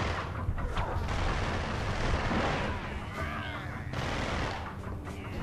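Enemies fire at the player in the video game Ratchet and Clank: Going Commando; dense bursts of weapon fire and explosions crackle continuously with game effects layered in, fairly faint and busy throughout.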